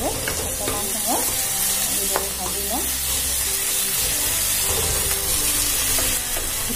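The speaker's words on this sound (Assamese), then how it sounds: "বিলাহীটো ভালদৰে অকণমান সময় এইদৰে ভাজি ল'ম।" Tomato frying in a pan for an Assamese fish curry with mustard paste: a dense, continuous sizzle heard up close, with repeated scraping stirs and short squeaks of the utensil against the pan.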